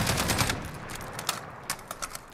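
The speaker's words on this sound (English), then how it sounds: "So let's go ahead and fire and see what the recoil looks like." MK 17 SCAR rifle in Call of Duty Modern Warfare fires a sustained automatic burst, rapid loud shots blending into a continuous roar before thinning into a few spaced final reports.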